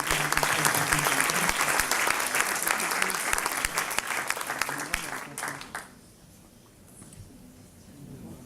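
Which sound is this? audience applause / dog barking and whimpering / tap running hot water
audience applause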